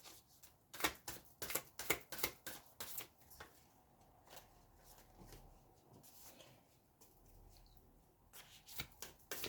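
A Moonology Oracle card deck being shuffled makes a rapid run of crisp close riffling clicks and snaps, then quieter scattered card sounds, and another burst of snaps at the end.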